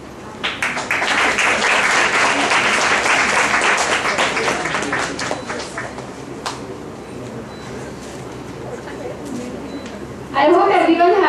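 A college convocation crowd claps loudly for several seconds, then the applause thins out and fades. Near the end a voice begins speaking over the dying claps.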